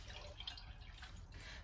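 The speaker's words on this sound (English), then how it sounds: "draining out more water." Water drips and trickles from squeezed grated zucchini being drained in a kitchen, quiet irregular droplets close by with no speech.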